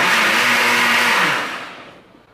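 A blender roars loudly with a steady, harsh whir, then winds down and fades over the last second.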